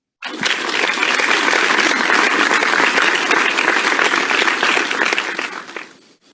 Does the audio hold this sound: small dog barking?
no